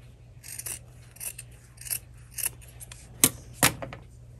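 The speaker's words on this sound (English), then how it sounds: "Cut the extra and stuck it in, same thing." Scissors snip through excess headscarf fabric in a series of quick, crisp cuts repeating roughly every half second, with two louder close snips near the end; no one speaks.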